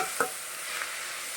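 Finely chopped black nightshade greens sautéing in a pan, a soft steady sizzle with a brief stirring scrape, close and quiet, with no talking.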